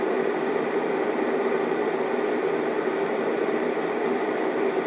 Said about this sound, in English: Now move on to a fan.